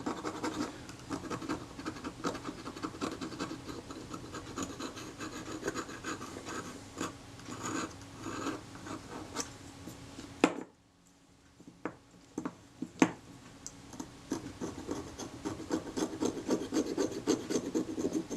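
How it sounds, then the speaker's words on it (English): The back edge of a scalpel scrapes and rasps steadily across a camera body, close and fairly quiet, pausing briefly before a few sharp scratches and renewed scraping. "I'm using the back edge of this scalpel as a scraper."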